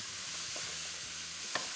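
Chicken and sliced tomatoes fry in a pan with a steady, close hiss and crackle of sizzling oil, broken by a faint clink near the end and no voices.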